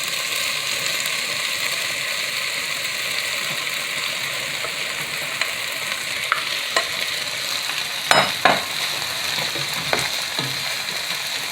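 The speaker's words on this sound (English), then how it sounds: "And begin to stir your tomatoes." Tomatoes stirred in a cooking pot for vegan tomato basil soup, a steady sizzling bed with scraping and clinking spoon strokes growing more distinct toward the end, no voices.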